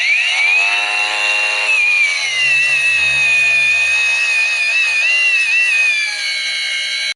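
A power grinder screams at full speed, a steady high-pitched whine with a slight wavering pitch, loud and close throughout. It is an angle grinder running at maximum speed.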